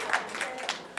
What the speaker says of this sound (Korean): 박수 주세요. 박수.